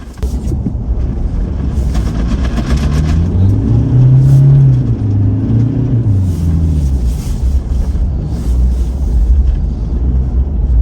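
A Toyota Hilux engine revs hard while stuck in deep powdery snow at -20°C, a loud continuous low rumble rising and falling in pitch with the throttle, close by and steady throughout with no talking.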